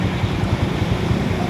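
Floodwater of the Ravi river rushing past near the old bridge in Pakistan at dawn, a steady low roar and churn with wind buffeting the microphone throughout.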